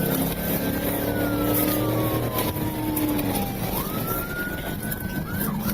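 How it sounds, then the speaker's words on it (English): A police car siren wails with long rising and falling sweeps over steady traffic rumble and engine noise during a high-speed chase, loud and continuous throughout. "they activated their emergency lights and sirens"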